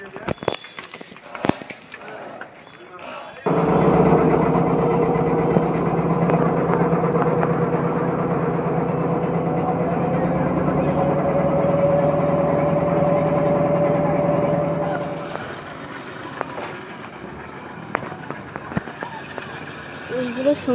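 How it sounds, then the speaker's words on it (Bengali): A launch boat's engine, on a launch bound for the Sundarbans, drones loud and steady for about twelve seconds with a rising tonal whine, then fades back into open-air background noise and scattered clatter. "এইগুলো সুন্দরবন যাওয়ার লঞ্চ"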